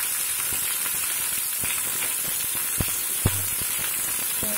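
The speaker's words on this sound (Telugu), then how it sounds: "దొండకాయలు ఉన్నాయి కదా, ఈ ముందు ఫ్రై చేద్దాము కొంచెం బాగా ఫ్రై అవ్వాలి కదా." Ivy gourd (tindora) fries in a pan for an onion-chili dish, giving a steady close sizzle with a few sharp clicks of stirring.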